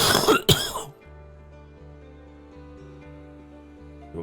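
A person coughs and clears their throat in a sharp burst near the start, followed by quiet low room hum.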